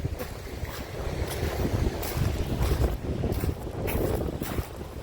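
Strong wind buffets the microphone in gusty, roaring surges, loud and continuous with no voices.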